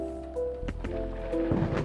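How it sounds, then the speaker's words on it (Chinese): Heavy rain and rolling thunder in the video game Coffee Talk: a steady downpour carries low booming thunder crashes, with a soft sustained music tone underneath. "除了外面吵不停的打雷声之外啦"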